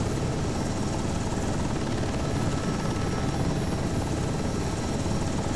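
A UH-60 Black Hawk helicopter in Microsoft Flight Simulator holds a hover, its rotor and turbine roar steady, dense and loud throughout with no pauses.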